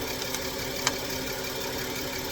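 A 2018 VW Atlas engine idling after a transmission fluid change, a steady low mechanical drone with even vibration, close and continuous, with one faint click partway through and no voices.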